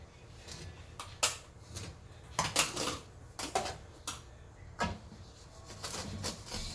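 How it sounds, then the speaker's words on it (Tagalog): Bouillon cubes being crushed in a pan while cooking creamy buttered shrimp, heard as a series of sharp, fairly quiet scraping and clinking taps of a utensil against the pan, irregular and close. "yung ating cubes ay kailangan ko lang siyang durugin"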